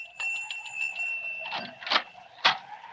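A small bell is rung several times, bright metallic dings ringing out close by, the first one sustained and later strikes sharper over faint background movement.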